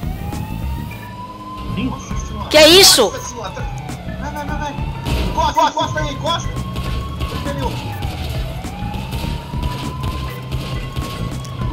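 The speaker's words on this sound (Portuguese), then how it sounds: "Ignorou a sirene da viatura" Police car siren wailing in GTA V, rising and falling in long sweeps, with a loud burst of crashing noise and a voice speaking over it.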